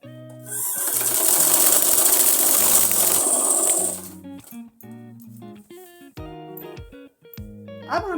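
A sewing machine stitches pleats into an Afghani salwar: a loud, fast run of stitching for about three seconds, then it stops and gives way to scattered clicks and light handling of the machine and fabric.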